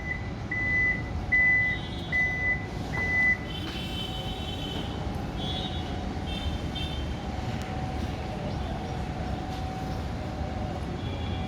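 Toyota Vellfire electric hybrid power door chimes with a string of short repeated beeps, then a steady whirring hum runs on alone as the door closes.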